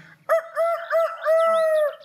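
A rooster crows once nearby, a loud, clear cock-a-doodle-doo in several drawn-out, melodic segments standing alone.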